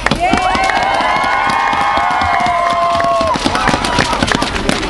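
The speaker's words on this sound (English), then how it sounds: "So I'd love to give a round of applause for the Community Youth Network." Audience at an Olympic torch relay stop in St. Anthony claps and cheers loudly and continuously, with high whistles and shouts rising over dense applause throughout.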